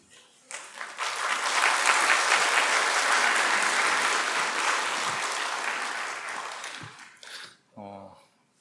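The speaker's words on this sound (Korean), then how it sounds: "박수를 쳐주시니까" A church congregation at a Baptist service breaks into applause that swells fast and holds full and close for several seconds before tapering off, followed by a brief spoken voice.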